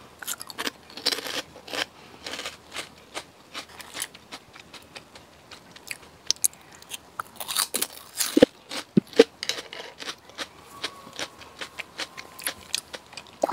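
Snacks eaten alongside beer are crunched and chewed up close in irregular, crisp bites and crackles, alone with no talking.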